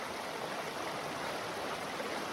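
Mountain stream water rushing steadily around a fallen log, a continuous close broadband rush and gurgle with no pauses and no voices.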